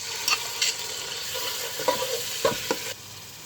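Onion, ginger, garlic and cumin pastes frying in soybean oil and ghee, giving a constant close hiss with a few sharp stirring scrapes and knocks, no voices.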